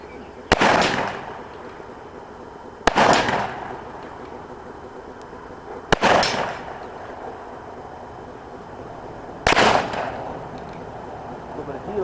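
A .44 cap and ball revolver fired outdoors, four loud sharp shots spaced a few seconds apart, each followed by a short rumbling echo.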